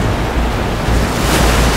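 Strong ocean surf rolls in fast on a southern Oregon beach at Myers Creek, a loud, continuous roar of crashing waves mixed with gusty wind buffeting the microphone, with no voices.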